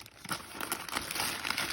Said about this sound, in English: So I'm going to wrap this in newspaper, nice and snug. Put it into the plastic bag.